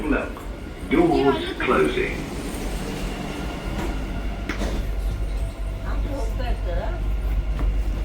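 Steady low rumble of a Dubai Metro train in motion near Centrepoint station, with rolling wheel noise and occasional clatter, while people talk nearby, loudest at the start.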